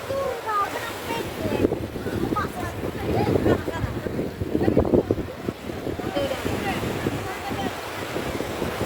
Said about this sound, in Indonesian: Dengarlah suara pantai ini, biar ku bikinkan suara aslinya